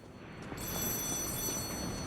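A telephone rings in Lies of P, a steady high electronic trill held continuously over a dense, noisy background wash with no talk.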